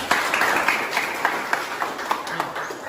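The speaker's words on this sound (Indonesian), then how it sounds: "Beri aplaus bagi Desrina." Applause for a student after a romantic poem reading in a classroom: a steady patter of clapping from a group, with slightly louder individual claps standing out at a regular pace.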